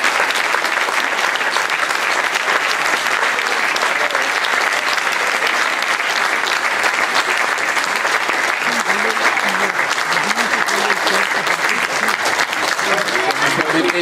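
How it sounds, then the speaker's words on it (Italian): A hall audience applauds a multi-sport club at a CSI Lecco anniversary awards evening, dense sustained clapping from many hands that holds steady and loud throughout, with no break. "Un applauso alla polisportiva."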